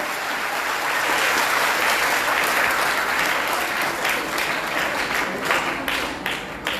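Steady, dense applause from a large audience at a public gathering, loud and sustained throughout with no talk over it.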